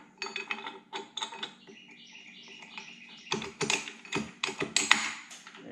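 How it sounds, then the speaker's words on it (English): Metallic ratcheting clicks and clattering gear noises come from a torque multiplier being fitted onto the flywheel gland of a VW air-cooled stroker engine, in quick irregular bursts with short pauses, close and fairly quiet. "this is the torque multiplier, and basically you put this guy on"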